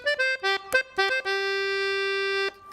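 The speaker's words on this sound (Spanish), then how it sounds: "esta, que es la tecla más simple, suena así." Accordion played on its simplest single-reed register, a few short detached notes followed by one long sustained tone, clear and close with no voices.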